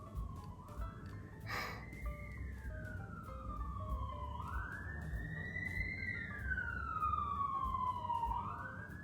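A wailing siren sweeps up and down in long rising and falling cycles, fairly faint over a steady low rumble, with a brief broadband burst early on.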